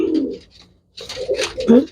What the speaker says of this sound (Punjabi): ਇਹ ਵੱਡਾ ਕਬੂਤਰ ਹੈ ਬਾਈ ਜੀ ਚੈੱਕ ਕਰ ਲਓ